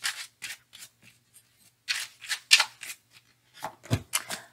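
Angel oracle cards being shuffled by hand, heard as a quick series of crisp riffling and slapping bursts up close, with short pauses between them.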